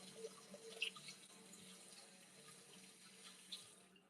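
A tap runs over cabbage as it is washed in a farm kitchen sink, a soft, steady trickle with faint drips and small splashes, no talking.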